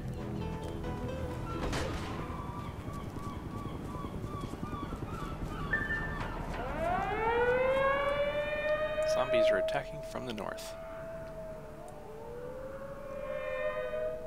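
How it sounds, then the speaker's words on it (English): A civil defense siren in The Secret World video game, a zombie-horde scene, wails up in long rising tones and holds steady over game noise while a voice talks throughout. "You can hear the siren going off."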